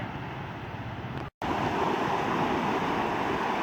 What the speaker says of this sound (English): let's take a moment to enjoy the sound of those waves.